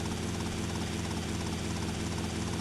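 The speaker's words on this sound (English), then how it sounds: "So that's why we're using the helicopter" Helicopter in the video game GTA Vice City on PS2, a steady loud rotor and engine drone that runs unbroken throughout.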